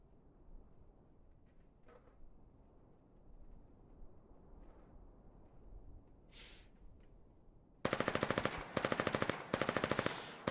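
Submachine gun fire from the war game Foxhole: after a stretch of quiet ambient noise, three loud bursts of rapid automatic shots ring out near the end, separated by short gaps.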